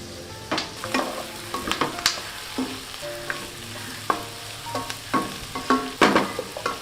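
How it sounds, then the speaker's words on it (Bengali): Capsicum fries on high flame in a pan with a light background sizzle, broken by frequent clattering stirs and scrapes of a spatula at close range, with no talking. "একদম হাই ফ্লেমে এটাকে আমি ভেজে নিচ্ছি"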